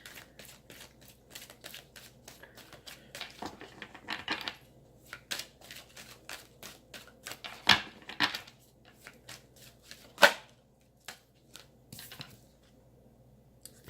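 Numerology cards are shuffled by hand in quiet, irregular bursts of soft riffling and flicking, with occasional sharper snaps and taps, fairly close and without talk.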